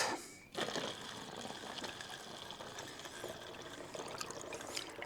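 Water trickles and pours steadily into a container for a roof moss-killer mix, a faint, continuous liquid fill after a short pause at the start, with no talking.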